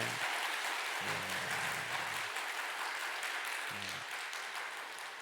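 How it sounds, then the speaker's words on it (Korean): A church congregation at Sunday worship applauds encouragingly, with dense, steady clapping throughout and a low voice briefly audible beneath it. "우리 한번 응원과 격려와 칭찬의 박수 한번 힘차게"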